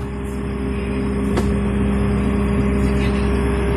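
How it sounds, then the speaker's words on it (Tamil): Steady engine drone of a JCB telehandler pulling forward in second gear, a constant near rumble with a brief knock partway through and no talking. "வண்டி முன்னாடி மூவ் ஆகிறது தெரியும்"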